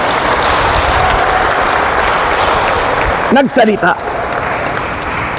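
A church gathering audience in Cavite City claps happily in a dense, sustained wash of applause, with a brief spoken word rising over it near the end.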